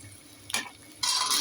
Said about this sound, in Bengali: একটু ভেজে নেব কিছুক্ষণ চিকেনটা